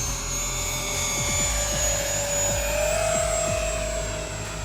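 A high-pitched electric jet whine from a Freewing A-10 Warthog 80mm RC jet holds steady, wavering and drifting in pitch, with an uneven, lumpy motor hum from one motor on a dead battery and irregular low thumps underneath.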